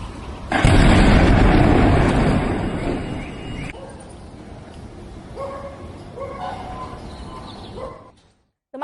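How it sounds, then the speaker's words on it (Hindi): A loud blast erupts suddenly near a CRPF school in Prashant Vihar, Rohini, Delhi, and rumbles for a few seconds, then fades into lower background noise with a dog barking faintly before the sound cuts out. "अगर आप धमाके की आवाज सुन पाए"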